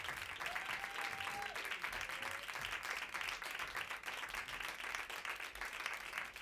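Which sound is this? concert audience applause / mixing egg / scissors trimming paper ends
concert audience applause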